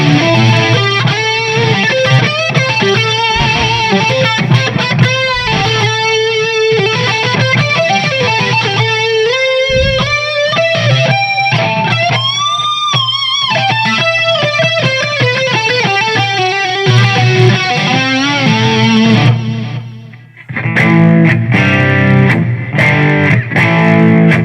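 Electric guitar played through a Boss GT-1 multi-effects pedal, a loud, distorted sustained riff with bent notes, a short dip near the end, then chugging chords.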